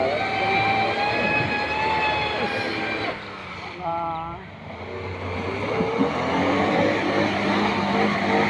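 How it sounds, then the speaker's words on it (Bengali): A car approaching along a road, its steady engine and tyre noise filling the background while people talk and call out nearby. "এক মিনিট গাড়ি আইতেছে তো"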